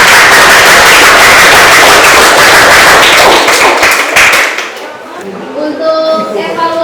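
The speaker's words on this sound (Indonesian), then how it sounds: "Tepuk tangan dulu." Classroom group claps after a student group presentation, a dense burst of many hands that fades out near the end, followed by faint voices and room sounds.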